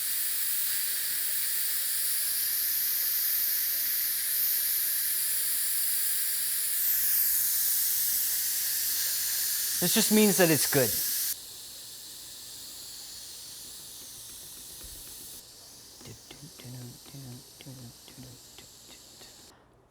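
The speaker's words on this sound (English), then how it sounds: "So we're gonna vent it. I don't think, ooh. Just gonna let the steam out." Steam vents from a pot of black bean chili in a loud, steady, close hiss lasting about ten seconds. It cuts off abruptly, leaving a quieter background, and a person then speaks briefly.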